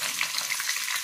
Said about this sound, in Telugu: నూనెలో వేసిందే ఇదే అవుతుంది మా, పటపటాన్ని పగులుతుంది